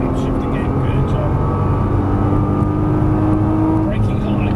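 Nissan GT-R on a race track, a steady loud engine drone from inside the car under an instructor's coaching voice, with tonal whine shifting as it pulls through a gear.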